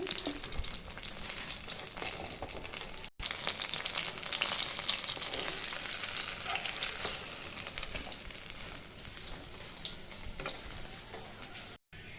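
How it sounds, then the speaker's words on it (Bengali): Eggplant slices frying in oil for a curd eggplant curry, producing a steady, dense crackling sizzle up close, with two brief breaks in the sound. "তো বেগুনটা আমি এখানে ভেজে নেব"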